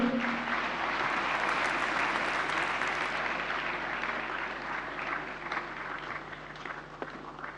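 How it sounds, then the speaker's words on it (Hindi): An audience at a national conclave in New Delhi applauds, a steady, full wash of clapping from many hands that slowly fades over several seconds, with no voices over it. "जोरदार तालियां एक बार फिर से"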